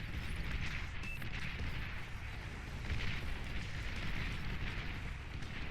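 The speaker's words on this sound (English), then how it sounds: "The artillery at the back here starting to cause some problems" Artillery fire in the strategy game Beyond All Reason during a 3v3 match: a dense, continuous rumble of booms and blasts rolling on for several seconds, with no voices.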